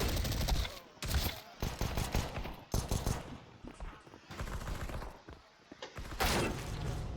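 Counter-Strike 2 gunfire crackles in quick automatic bursts, spaced by short pauses and mixed with clicks and mechanical clatter, fairly quiet overall.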